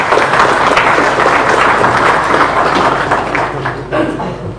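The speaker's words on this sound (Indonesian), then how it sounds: "saya ingin aplaus dulu untuk rekan saya Sujiwo Tejo" A studio audience at the tvOne talk show Indonesia Lawyers Club applauds for Sujiwo Tejo, with loud, dense, sustained clapping that tapers slightly toward the end.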